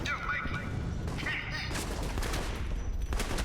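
Rapid bursts of gunfire crackle on a live fire range in the Alpha Protocol video game, a dense fusillade of shots and thuds mixed with game voices talking.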